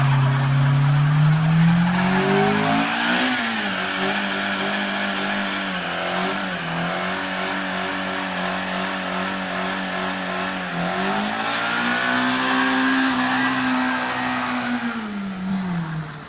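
A car does a burnout, its engine revving hard and holding high while the tires squeal continuously, loud and close, with the pitch dipping and rising again over a long, sustained spin.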